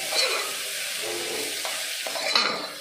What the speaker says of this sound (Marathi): ह्या वस्तू तळत आहेत म्हणजे गरम झाल्यात चांगल्या